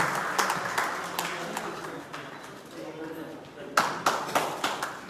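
An audience at a Covid warrior award ceremony applauds. Dense clapping starts, fades to a lighter patter, then swells again near the end, with a voice speaking over it.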